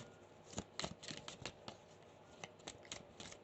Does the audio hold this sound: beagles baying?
no